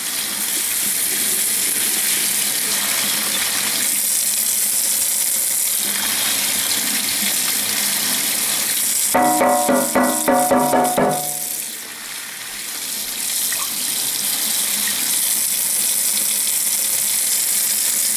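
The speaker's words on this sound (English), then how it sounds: "It basically just runs some water through it." Cold water runs from a sink tap through a tankless water heater strainer in a steady, loud rushing stream, broken near the middle by a short burst of rattling, splashing clatter before the flow resumes.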